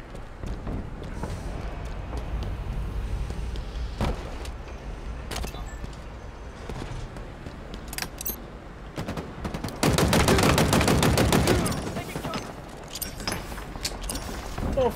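Gunfire in Halo Infinite multiplayer: scattered single shots and short bursts throughout, with a loud sustained automatic burst in the middle, close and dense amid the game's action noise.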